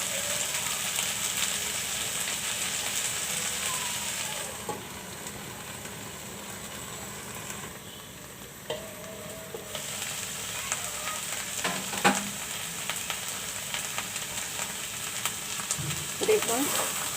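Okra (bhindi) frying in a pan makes a long, steady, moderately quiet sizzle, which drops lower for a few seconds in the middle, with occasional utensil clinks and scrapes.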